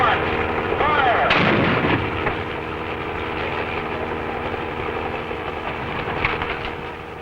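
Ejection seat firing during an F-107 pilot ejection test: a sudden loud blast followed by a sustained roaring rumble that fades slowly but continues throughout, heavy and dense.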